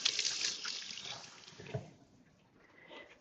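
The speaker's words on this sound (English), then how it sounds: "rinse my hands from the eggs" A kitchen faucet gushes into a sink as egg is rinsed off hands, a bright close splashing spray that thins out after a couple of seconds, followed by a few faint drips and trickles.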